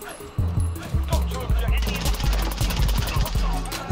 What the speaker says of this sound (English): Just fire the whole clip.